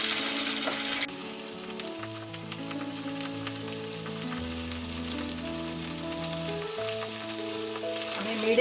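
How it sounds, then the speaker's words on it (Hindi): Idli pieces frying in oil over a medium flame, a continuous soft sizzle and crackle, close and even, with a brief louder burst at the start and faint tones underneath. "हम मीडियम फ्लेम में फ्राई कर रहे हैं"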